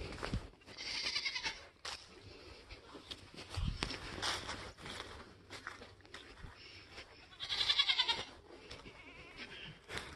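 Goats bleating repeatedly inside a farm building on a cold-weather homestead, several loud, wavering cries in bursts, with scuffling footsteps and movement between calls.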